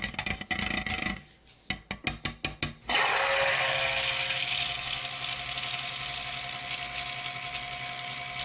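A stick blender runs in cold process soap batter. It starts with several short pulses and bursts, then settles into one long, steady, close whirring run.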